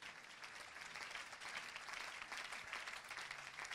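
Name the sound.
congregation applauding in church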